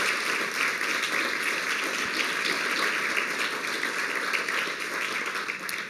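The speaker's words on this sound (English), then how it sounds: "if you just can't resist and feel like applauding at this point" Audience applause at an alumni and community event, a full, even roar of clapping from a sizeable crowd that holds steady for several seconds without talk.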